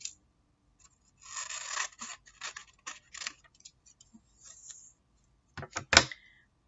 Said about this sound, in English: For the other end, we're just going to cut the corners off